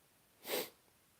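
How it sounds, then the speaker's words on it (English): A single sneeze from a person during a live chat stream, one sharp burst about half a second long, fairly close and alone over a quiet background. "Sorry, I love sneezing on live YouTubes."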